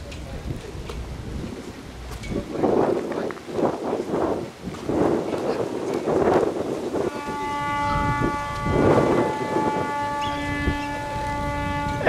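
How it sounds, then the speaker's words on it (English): A deep ferry horn sounds in long sustained blasts as the ferry arrives at Goree Island, Senegal, over low rumbling and distant ambient noise, with faint voices around. "can you hear our ferry boat is coming in?"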